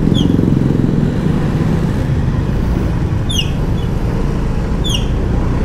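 A Yamaha Fazzio 125 hybrid scooter rides along a road, its engine and wind noise a steady loud drone with birds chirping faintly a few times in the background.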